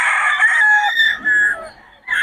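A rooster for sale at a Bocaue poultry seller gives a loud close crow, its long wavering call holding then breaking off, followed by short clucking notes.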